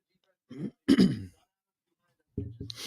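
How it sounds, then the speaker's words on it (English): A man on a livestream clears his throat in a few short, close grunting bursts, then goes quiet before another brief rough rumble at the end. "I apologize if I'm clearing my throat"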